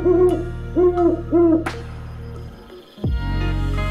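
An owl gives three soft, rounded hoots in a steady rhythm, close and clear, followed by a sharp click and low rumbling background noise.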